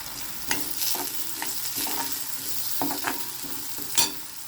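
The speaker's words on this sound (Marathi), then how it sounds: "जिरं टाकायचं आणि थोडं हिंग पण टाकायचं." Cumin seeds and asafoetida sizzle in hot oil for a raw banana curry tempering, a steady crackling fry with small pops and occasional stirring scrapes.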